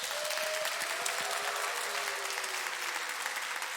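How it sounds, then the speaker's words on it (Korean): A crowd at a Sunday school teachers' training gathering gives a worship singer a steady round of applause, a dense, even wash of many hands that carries on for several seconds. "박수 한번."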